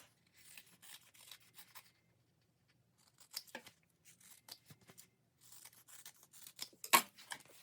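Scissors snip and slide through fabric in short, quiet bursts of crisp cutting, with pauses between runs and one sharper snip near the end, up close with no talking.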